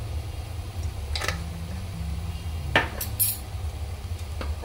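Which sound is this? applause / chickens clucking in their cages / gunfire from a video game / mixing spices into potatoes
mixing spices into potatoes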